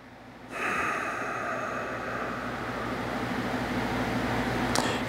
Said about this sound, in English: I'm going to breathe into this spot now.